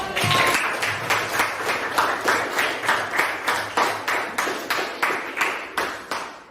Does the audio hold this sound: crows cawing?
no